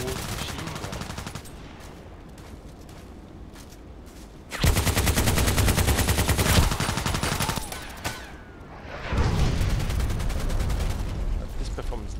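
An old machine gun fires in a sniper video game, with sustained loud bursts of rapid automatic gunfire in two long stretches and quieter gaps with scattered shots between.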